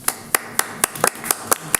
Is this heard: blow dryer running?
no